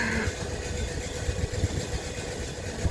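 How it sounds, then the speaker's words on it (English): Air compressor aboard an SWR Class 455 electric train runs steadily, a continuous low mechanical hum and rumble with a hissy broadband wash, fairly close and unbroken, with no talk. "Just in time for the compressor."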